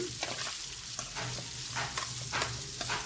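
Bitter gourd with salt and turmeric sizzles in a hot frying pan while a spoon stirs and scrapes it back and forth in repeated strokes.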